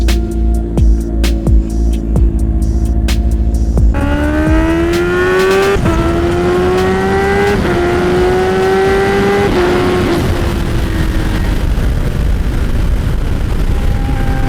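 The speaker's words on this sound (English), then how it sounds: "my H2 definitely had a more noticeable blow-off valve" A Kawasaki Ninja H2 supercharged motorcycle is being ridden. The engine revs up through several gears with rising, stepped pitch, and there is a blow-off valve, all loud and close with wind rush.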